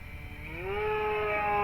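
A small, high-revving E-flite Decathlon model airplane engine climbs to a steady, loud buzzing whine and holds at full throttle, close by.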